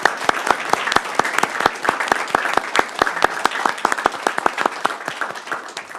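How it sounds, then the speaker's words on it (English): An audience applauds staff members at a school board meeting, steady dense clapping from many hands, close and sustained with no talk over it. "we'd like to just give a huge round of applause and rave for these amazing,"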